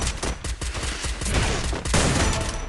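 Sustained bursts of rapid gunfire in the video game Free Fire during a tournament match, dense overlapping volleys rattling continuously and loud with no talk.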